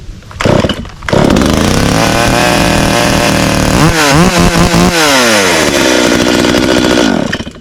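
A chainsaw engine sputters, catches, then roars loudly and steadily, revving up and down mid-way before settling back into a continuous buzz.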